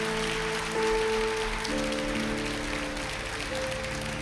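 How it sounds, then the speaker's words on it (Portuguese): A church congregation claps along while sustained organ or keyboard tones ring through, the clapping a loose, steady patter layered over held musical notes. "Vamos aplaudir ao Senhor."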